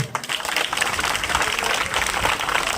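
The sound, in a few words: audience applause at village political rally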